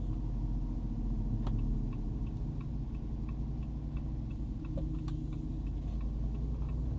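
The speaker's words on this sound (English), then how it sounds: "Man, that Hemi sounds mean." A 2022 Jeep Wrangler Unlimited Rubicon 392 with a Hemi V8 on 35-inch tires rumbles steadily from inside the cabin. The low engine drone is constant, with faint ticking over it and no talk.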